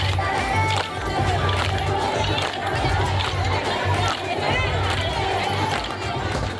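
A waiting crowd at a political campaign rally in Karimnagar, caught in a flash rain shower: a loud, dense, continuous wash of many voices and commotion, with talk mixed in.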